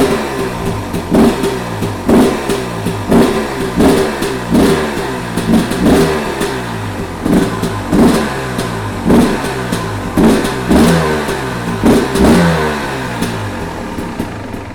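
Motorcycle engine fitted with a Lectron Billetron Pro Big Air carburetor warming up, loud and close, with a rough idle broken by repeated rhythmic blips of revving roughly every second, mechanical clatter underneath and no talking.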